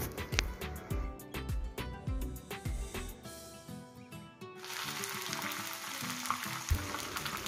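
Dry red chillies, cumin and mustard seeds fry in hot oil, crackling and popping in quick irregular bursts, then settle into a steady close sizzle.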